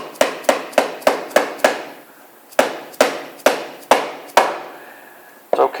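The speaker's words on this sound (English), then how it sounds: "It's okay to strike the end grain with a dead blow hammer." A dead blow hammer strikes the end grain of a wooden drawer joint during assembly: five quick, sharp raps, a short pause, then about six more, each a crisp knock with a short ring.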